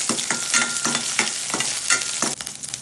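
Green chillies crackling in hot oil with fenugreek and garlic for a curry, a busy sizzle punctuated by repeated scraping strokes of a spatula roughly every third of a second, close and alone.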